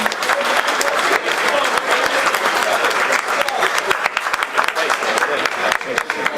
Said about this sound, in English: Everyone, please give a round of applause for this special officer.